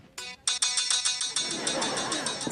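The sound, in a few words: phone ringtone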